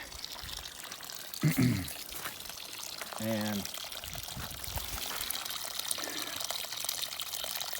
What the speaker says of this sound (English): this is a piped spring